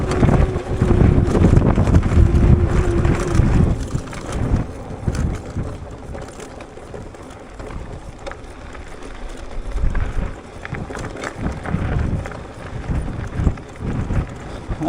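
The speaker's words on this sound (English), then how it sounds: "That wind was so strong." Strong, gusty wind battering the microphone while riding a Wooken e-bike in bad weather, a loud continuous roaring rumble that surges and eases, with faint mechanical rattles underneath.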